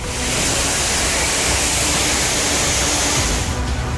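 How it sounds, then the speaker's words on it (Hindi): Floodwater rushes through a residential neighbourhood in Pune during the monsoon, a loud, steady, roaring torrent that fills the whole stretch without a break and with no voices. "ये शोर, ये पानी की रफ्तार, ये कोई पहाड़ी इलाका नहीं है, बल्कि पुणे में ही रिहायशी बस्ती"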